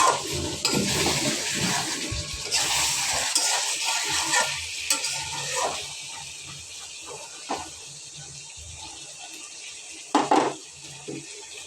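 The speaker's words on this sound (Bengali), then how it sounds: "আলুগুলো দিয়ে আবারও নাড়াচাড়া করে কষিয়ে নিতে হবে আরও কিছুক্ষণ" Beef and potatoes stirred and braised in a pan, with a sizzle that loudens and then settles and occasional clanks of a spoon against the pan.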